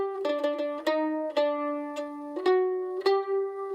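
Shave and a Haircut rhythm picked on a mandolin, a short run of bright plucked notes with a pause before the final two accented notes, played alone, close and clear.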